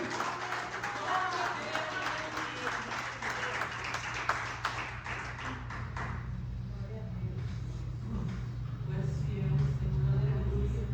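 Church congregation applauding during a healing and deliverance service, a dense wash of clapping that thins after midway while a low organ or keyboard drone and voices carry on underneath.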